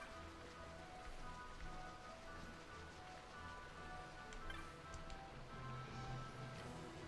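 Soft, steady rainfall in the video game Final Fantasy XII, a faint continuous patter on surfaces with a low background drone and no talk.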